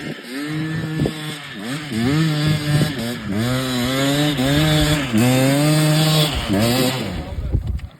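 An enduro motorcycle climbs a steep hill, its engine revving hard and rising and falling in repeated bursts as the rider fights for traction, loud and close.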